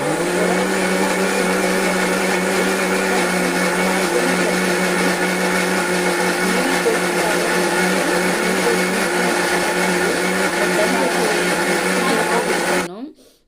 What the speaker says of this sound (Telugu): ఇంకా నేను చింతపండు వేసి మిక్సీ కొట్టాను